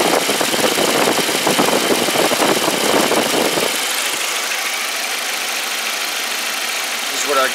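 A 2005 Volkswagen Passat 1.8T engine idles with its A/C compressor running, giving a loud, close, steady mechanical hum and rattle whose tone shifts and smooths partway through.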